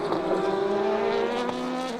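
Endurance race cars, the AF Corsa number 51 and the number 92 Porsche battling in the GT Pro class, roar past under the Silverstone Bridge, a loud continuous engine drone with shifting pitch and no talk.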